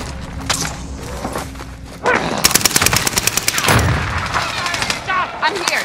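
Gunfire in Call of Duty: Modern Warfare, with a few scattered shots and then dense, rapid automatic bursts that rattle loudly for several seconds, mixed with other battle noise.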